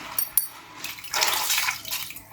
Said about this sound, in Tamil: இப்போ இதில் தண்ணி சேர்த்துட்டு நல்லா வந்து ஒரு 3-4 முறை அலசிடுங்க